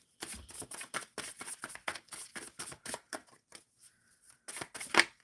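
Tarot cards are shuffled by hand during a live card-reading session. Quick, papery riffles and slaps come close to the microphone in bursts, followed by a brief lull and a few final flicks.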